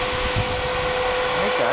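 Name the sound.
electric cooling fan running in MK4 VW GTI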